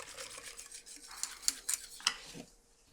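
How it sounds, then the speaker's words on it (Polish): A spoon stirs vanilla pudding cream thickening in a pot, with soft scraping and a few sharp metallic clinks against the sides, fairly close and quiet. "Gotuj krem, ciągle mieszając, aż zgęstnieje."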